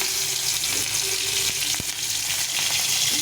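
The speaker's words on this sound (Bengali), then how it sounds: "তেলটা গরম হয়ে গেছে একটু কালো জিরে দেব দুটো কাঁচা লঙ্কা" Nigella seeds and green chillies frying in hot oil for fried rice, a steady loud sizzle and crackle with a few sharp pops, close up, no talking.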